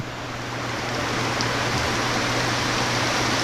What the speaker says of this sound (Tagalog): Bumuhos na naman yung ulan